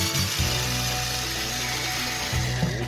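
A screw is driven out of the recoil plate of an APS airsoft rifle with a power tool, a close, steady buzzing whir that drops out briefly and then resumes, with no talking.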